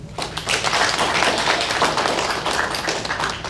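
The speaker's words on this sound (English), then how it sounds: "So let's give that a round of applause." At a press briefing, a room of people claps in a sustained burst of applause, a close, fairly loud mix of quick overlapping claps that holds for about three seconds.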